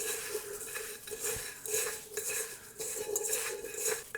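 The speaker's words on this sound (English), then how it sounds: "So again, we're going to mix it thoroughly." Keto biscuit dough with nutritional yeast is mixed in a bowl, a spoon scraping and clinking against the sides in a quick, uneven rhythm, close and alone.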